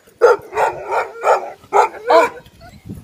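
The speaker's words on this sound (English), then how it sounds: "Is that your dog?" A dog barks outdoors at a cottage beside fast-flowing water, giving six sharp, loud barks in quick uneven succession, close by and with no talking over them.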